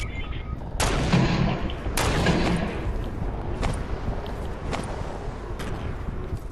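Gunfire in a Fortnite-style duo battle royale video game crackles in several bursts over continuous background game noise, fairly close.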